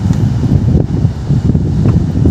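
Strong monsoon wind at a Chowpatty seashore, with rough sea, buffets the microphone, a low roaring gust noise that stays constant throughout with no voices.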